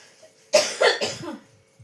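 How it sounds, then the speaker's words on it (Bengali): Three quick coughs in a row from a person with a cold, close and fairly loud, followed by a faint short sound at the end. "খুব কাশি হচ্ছে"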